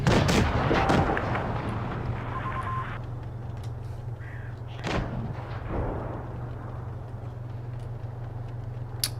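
Tank cannon fire in a competitive online tank game match: a few heavy booming shots over a steady low engine hum, with occasional sharper impacts and no voices.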